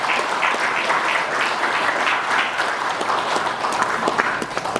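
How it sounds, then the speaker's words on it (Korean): A large audience at a book launch celebration applauds warmly, a dense and continuous wash of clapping that stays loud and even throughout, with no voices over it. "뜨거운 박수 보내주십시오"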